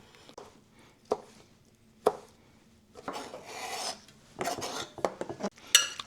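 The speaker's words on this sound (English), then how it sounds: "So we want to cut this in the small cubes about the same as we will our other veggies," A knife dices vegetables into small cubes on a board, with a few isolated taps followed by bursts of quick rasping chops, close and quiet.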